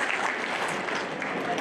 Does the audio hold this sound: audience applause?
yes